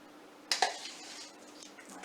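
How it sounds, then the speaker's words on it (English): A measuring cup scoops homemade pumpkin puree from a bowl, making two quick close clinks of cup against the dish, then soft faint scraping and a light tap at the end. "So I'm going to take my measuring cup and scoop out"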